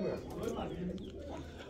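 Golden pigeon numbered 19 cooing in a steady, low murmur close by, with people talking over it throughout.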